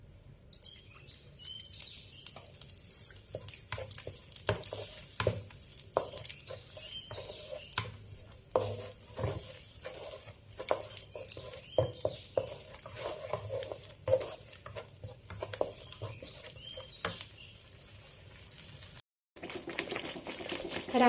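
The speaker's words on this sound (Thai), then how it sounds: "ปันจะผัดพริกแกงให้หอมนะคะ" Thai curry paste stir-fried in a pan for a tilapia fish curry noodle sauce, giving a continuous close crackling sizzle dotted with rapid ticking spatula taps and scrapes, with no talking.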